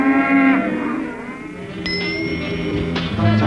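A cow gives a loud, drawn-out moo in a movie, followed by a few bright bell-like tones and then another low lowing call, with no talk over it.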